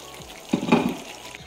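Noodles dropped into a pan of vegetables frying for a home-cooked noodle dish, a brief sizzle and stirring rustle midway over a low background hiss.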